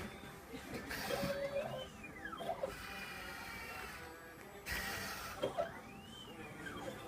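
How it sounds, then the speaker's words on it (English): An Essilor optometric lens blocking machine runs through its cycle, giving a low mechanical hum with two rising and falling electronic whines that repeat several seconds apart, all quiet and steady. "We're going to put a blocking pad on the machine and tell it to block it exactly where you see it"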